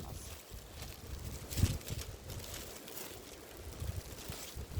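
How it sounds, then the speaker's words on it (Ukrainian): Gusty wind buffets the microphone outdoors, with irregular rushing bursts and a soft patter that suggests rain beginning to fall. "Дощ, дощ, прямо дощ починається."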